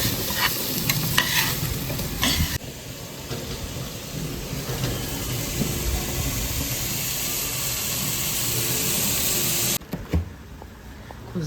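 Vegetables, rice and ginger paste frying together for khichuri make a steady sizzle with scraping stirs, close and moderately loud, briefly cutting out near the end before a few clatters.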